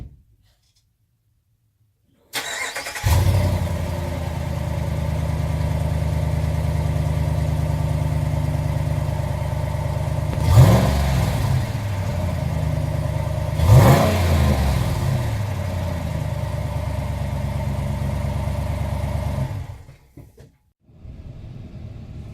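A 2018 Ram pickup fitted with a K&N cold air intake starts up and idles steadily in a driveway, with two sharp throttle blips rising above the idle before the engine shuts off.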